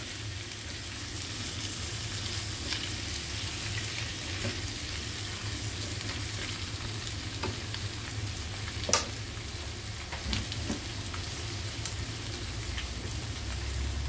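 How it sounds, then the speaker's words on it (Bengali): Small mourala fish frying in spices in a pan, a steady soft sizzle with occasional sharp pops and faint scraping stirs over about fourteen seconds. "মশলার সঙ্গে একটু কষা হোক।"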